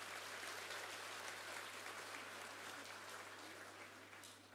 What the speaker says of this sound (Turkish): Bir alkış da kendilerine.